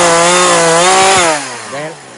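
A chainsaw makes an undercut in a tree trunk, loud and close, its engine pitch sagging under load before dropping back to a lower idle.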